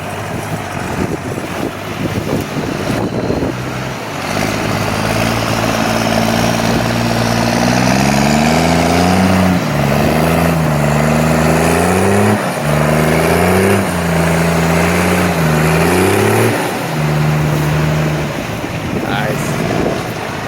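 A Dodge off-road vehicle drives by on a ranch trail, its engine droning and rising and falling in pitch as it revs and crawls past, loud and close over steady wind.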